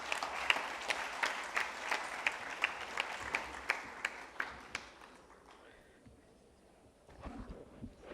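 An audience at a formal valedictory session claps for several seconds, a dense burst of applause that thins out and fades away toward the end.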